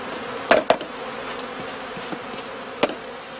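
Honey bees buzz around straw skep hives in an apiary, a soft continuous hum with a few sharp knocks and clicks near the start and one later.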